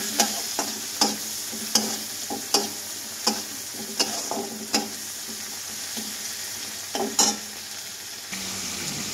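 Cumin with ginger and chili paste frying in hot ghee in a pan: a continuous soft sizzle punctuated by regular sharp scrapes and taps of a spoon stirring, close by, with no talking.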